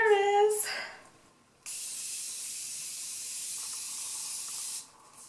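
Morphe Prep & Set setting spray misted onto a face in one steady, close hissing burst lasting about three seconds, after a brief voice at the start.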